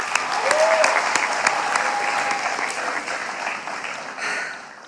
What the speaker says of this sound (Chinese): 希望大家把掌声送给他。